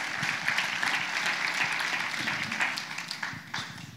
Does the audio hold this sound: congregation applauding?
yes